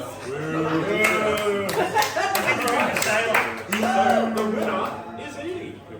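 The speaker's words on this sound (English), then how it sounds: "Generic crowd background noises." Crowd chatter at a local card game store tournament night, many overlapping voices talking and laughing with scattered clapping, steady and fairly close throughout.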